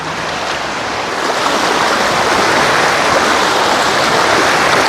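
River water rushing and splashing steadily during a crossing in the Vanni forest near Vavuniya, Sri Lanka, a broad continuous wash that swells slightly and stays loud throughout with no voices.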